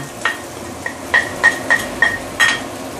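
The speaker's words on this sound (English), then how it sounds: "what you want to do is to saute your black bean," Salted black beans sautéed in peanut oil in a pan, a low steady sizzle beneath a handful of close, regular taps of a utensil stirring against the pan.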